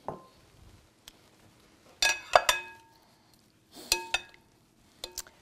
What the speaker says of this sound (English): I don't want to mush these up too much, so I do very gentle stirring